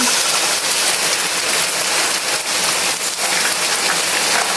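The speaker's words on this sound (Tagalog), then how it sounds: "Tapos umulan na naman ng ganyang kalakas." Heavy rain pours down in a loud, dense, unbroken hiss that stays steady for the whole stretch.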